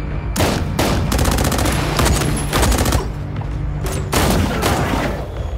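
Dense gunfire fills a shootout in a warehouse in an action film, with rapid automatic bursts and single loud shots packed together, close and very loud throughout, with brief gaps between volleys.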